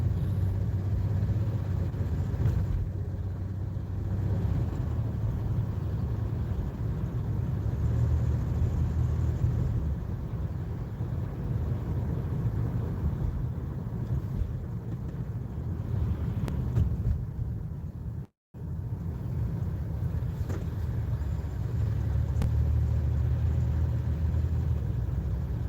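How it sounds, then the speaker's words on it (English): A car engine rumbles low and steady in slow road traffic, heard from inside the vehicle with wind buffeting and a brief dropout near the end; no one speaks. "I'm in slow traffic right now"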